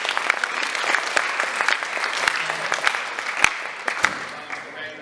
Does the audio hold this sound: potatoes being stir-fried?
no